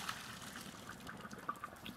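Boiled potatoes drained from a pot, water pouring and splashing steadily into a sink for the whole stretch, fairly soft and close with small bursts of gushing.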